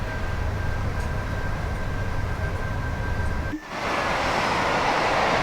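A Class 86 electric locomotive running in a train simulator game on the West Coast Main Line, a steady low rumble with a faint whine, close and continuous, with a brief dip midway before the drone resumes.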